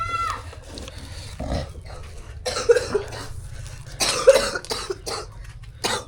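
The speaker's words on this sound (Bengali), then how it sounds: "তোমার তো কাশিটা বাড়ি গেছে মনে হয়" A woman coughs several times, in short bursts, heard at moderate distance over a low steady hum in an indoor home setting.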